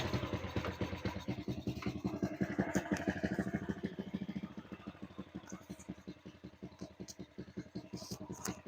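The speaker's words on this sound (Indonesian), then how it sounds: "motor sudah hidup" An older Honda Supra X motorcycle engine, with a diode-repaired charging system, runs at idle with a fast, even, close-up pulsing putter that eases slightly in loudness partway through.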